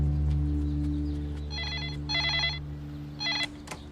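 A telephone rings in bursts of electronic trilling, three distinct ring pulses at a steady rhythm over a low constant hum, with no talking heard.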